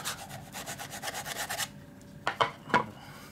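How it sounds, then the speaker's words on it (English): Rhythmic rasping strokes of sandpaper shaping a cork board ping pong paddle, close and steady for a second and a half, then pausing before a few separate scraping rubs. "the idea of sanding this to make it the right shape"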